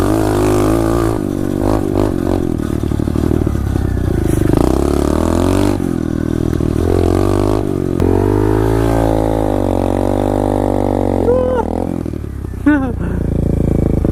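An SSR 125 pit bike revs hard in a backyard burnout, its engine note climbing and falling in loud, sustained waves from close range, with a rider's voice briefly audible over it.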